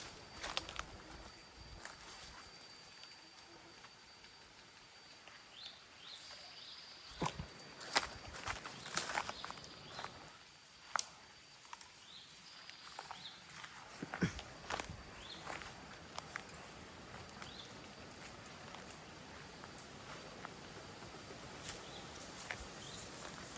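Footsteps of one person walking down a path in Phatthalung, Thailand, irregular soft crunching steps, some louder and sharper than others, close to the mic over a faint outdoor background, with no talk.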